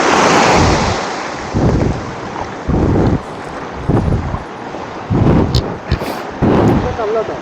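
Sea waves surge and wash in regular rolling pulses, loud and close, during night fishing at the shore, with someone talking between the surges.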